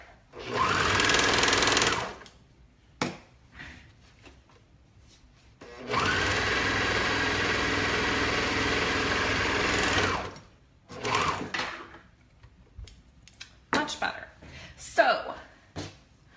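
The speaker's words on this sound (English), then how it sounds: "I don't know what I would do if I didn't have my serger" An MO654DE serger sewing machine runs in two loud, steady whirring bursts of a few seconds each, separated by quieter handling noises and a person talking.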